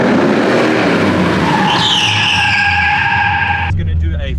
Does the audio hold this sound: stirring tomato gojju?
no